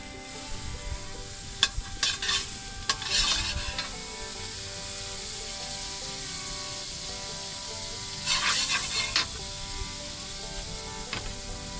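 Butter sizzles and crackles in a pan at an outdoor farm cookout, a steady low hiss punctuated by bursts of sharp scraping and clattering as the pan is stirred, close up with no talking.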